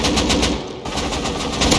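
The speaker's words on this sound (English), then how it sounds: "That's me shooting AK." AK rifle fire in the survival game Rust, a loud, rapid continuous burst of automatic shots close by, with a brief break partway through before firing resumes, no talking.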